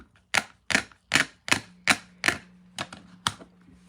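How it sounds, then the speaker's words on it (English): Eight sharp, evenly spaced cutting snaps as stamped card-stock pieces are trimmed, each crisp and close, with a low steady hum beneath and no voices. "I'm going to cut them out."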